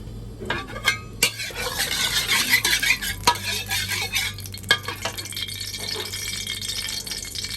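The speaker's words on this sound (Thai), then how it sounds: "เราก็ใส่น้ำมันลงไปนะครับ น้ำมันพืช" Vegetable oil crackles and sizzles in a pan on high heat, with a close, busy rattle of a utensil stirring and scraping against the metal throughout, no voices.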